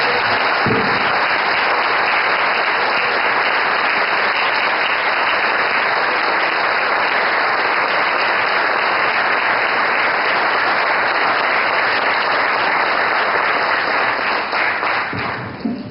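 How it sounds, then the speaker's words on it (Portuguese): A church congregation applauds in praise during a worship service, with sustained, loud clapping filling the room, heard through slightly distorted recording with a steady high whine. "Vamos aplaudir ao Senhor por isso."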